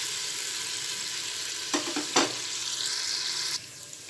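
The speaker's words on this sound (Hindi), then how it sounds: "ऑयल गर्म होने पे हम इसके अंदर ऐड करेंगे अदरक लहसुन का पेस्ट और 1-2 मिनट के लिए इसको" Ginger garlic paste sizzles in hot oil with a steady, close hiss of frying, broken by a couple of stirring scrapes and a softer shift near the end.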